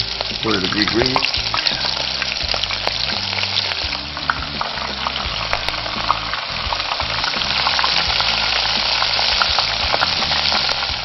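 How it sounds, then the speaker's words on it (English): Red snapper coated in fine cornmeal frying in very hot grease gives a steady, loud sizzle across the whole stretch, with occasional scraping stirs mixed in. "They only take a minute and a half, 2 minutes at the most to cook, so watch them closely."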